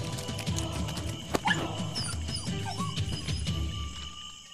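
A cartoon dog barks and yips in an animated folk-tale film, a few sharp, fairly close barks and whimpers standing out over a steady bed of background music.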